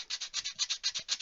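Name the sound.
sanding wood with heavy 60 grit sandpaper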